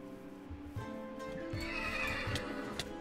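A horse whinnies in a farm video game, a high drawn-out neigh over soft repeated clip-clop hoof beats that carry on steadily underneath.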